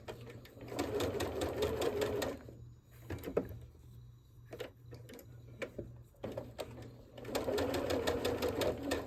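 Sewing machine stitching a curved quilt seam, fast rhythmic stitching in bursts with short pauses and light handling of fabric in between, close and alone.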